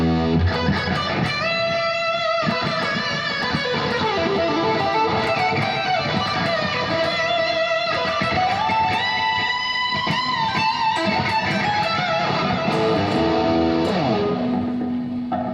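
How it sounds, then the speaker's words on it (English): Electric guitar played through a Fractal FM3 unit with echoing delay and washy reverb, notes smearing into a dense, loud, continuous wall of sound without any voices. "bring some delay and reverb in."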